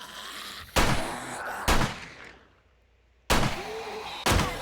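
Four loud gunshots from the survival video game 7 Days To Die, arriving in two pairs with sharp cracks and short decaying tails, a quiet gap between the pairs.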